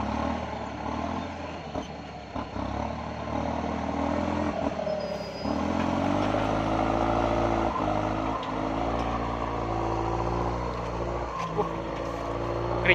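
A Kubota MU5702 tractor engine runs steadily in a rice field, a loud droning diesel with clattering and a shift in pitch partway through, with no talking.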